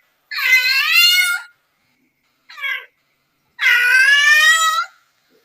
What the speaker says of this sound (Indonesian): Ini suara kucing betina yang birahi memanggil-manggil si jantan.